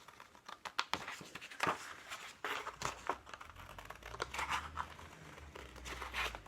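Scissors cut through paper along a drawn line, a quiet series of close crisp snips and crinkles in an irregular rhythm, faint and nearby.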